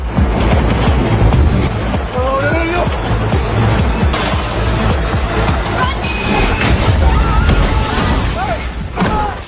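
A train rumbles along the tracks with rhythmic clattering and intermittent high metallic wheel squeals, loud and continuous throughout.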